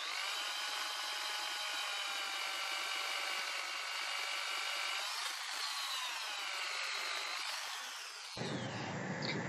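A power drill spins a hole saw through wood for a homemade mini metal-melting foundry, a steady high whining grind that holds for about eight seconds, pitch shifting slightly as it bites, then cuts off abruptly.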